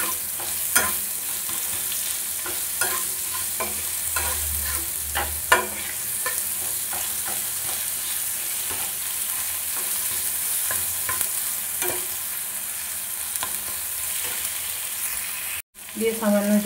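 Spice paste of salt, turmeric, cumin and coriander powder with a splash of water, stirred and fried in a pan for raw banana kofta curry; a steady sizzle runs throughout with repeated scraping stir strokes, close and clear.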